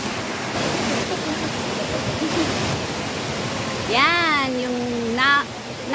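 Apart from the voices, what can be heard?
Ng Tong Chai waterfall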